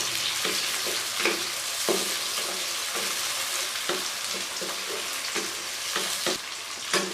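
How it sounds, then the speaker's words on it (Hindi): Tomatoes frying with onions in a pan for chana pulao, a steady loud sizzle throughout with occasional stirring scrapes, no talking. "अब हम इसको इतना पका लेंगे कि जो टमाटर है वो अच्छे तरीके से गल जाए।"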